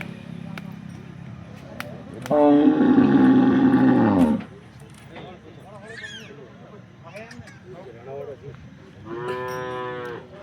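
A cow at a Porbandar cattle sale gives one loud, long moo lasting about two seconds, and another moos more briefly toward the end. Low background noise and faint voices fill the gaps.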